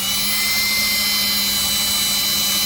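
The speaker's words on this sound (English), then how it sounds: "And we're drilling it out, and we're just gonna put a new screw in." A power drill bores out a screw on the trim sending unit of a Grady White boat, its motor whining loud and constant at close range without a break, and no voices.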